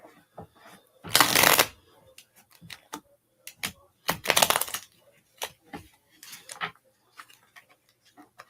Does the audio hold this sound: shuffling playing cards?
yes